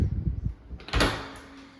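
A double closet door in a house swings open, with low knocking handling sounds and then a wooden clack and rattle as the doors part, close and clear, trailing into quiet room tone.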